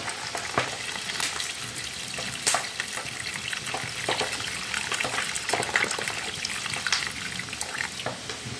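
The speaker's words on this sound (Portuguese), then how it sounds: "a gente colocar mais uma água no arroz aqui" Water is poured into a pot of rice on a wood-fired country stove, a continuous bubbling, hissing wash with scattered sharp pops and clinks, close and fairly loud.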